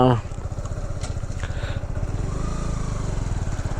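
A Kawasaki Z125 motorcycle rides along a gravelly road through construction, its engine holding a steady buzzing drone throughout while someone talks over it.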